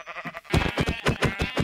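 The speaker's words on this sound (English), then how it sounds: "Hello, sheep." A Minecraft sheep bleats in a loud, rapid, pulsing series of wavering baas, close and clear with no talk over it.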